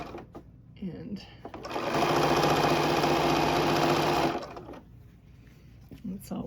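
Sewing machine stitching binding onto a baby quilt, a steady close mechanical whir running for about two and a half seconds before stopping, with someone talking before and after.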